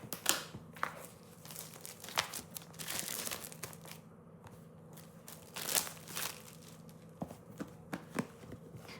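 A gift package is opened by hand, with wrapping crinkling, crackling and tearing in irregular bursts up close for several seconds, fairly quiet and with no talk.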